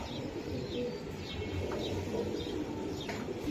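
Racer pigeons cooing softly in repeated low calls, with faint chirps in the background, close and quiet.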